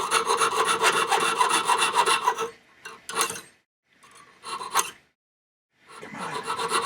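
Hand filing the edge of a silver locket, fast rasping metal strokes in a steady rhythm, loud and close, breaking into short bursts and silences before resuming.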